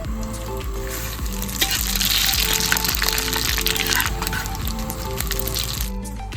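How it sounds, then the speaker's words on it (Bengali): Panch phoron whole spices frying with bay leaf and dried red chilli in leftover mustard oil from frying fish, a steady close crackling sizzle with faint scraping, no talk. "পাঁচফোড়ন ভালো করে ভাজা হয়ে গেছে"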